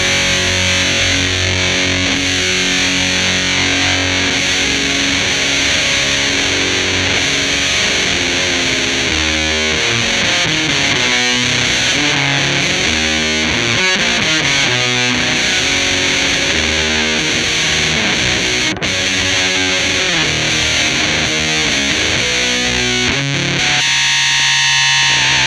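Guitar chords through a Boss TB-2W Tone Bender fuzz pedal running at 7 volts, a thick saturated distorted wash of repeated strums and riffs that stays loud and dense throughout, with no voices.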